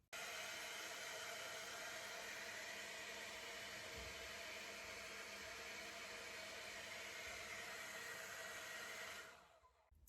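A Babyliss Hydro Fusion hair dryer blows on its cooling setting, a steady close airy rush that holds evenly for about nine seconds and then cuts off.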